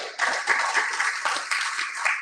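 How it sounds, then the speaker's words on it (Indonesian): A church congregation claps during a sermon, a lively patter of many hands with uneven, rhythmic bursts heard from within the room. "berikan tepuk tangan"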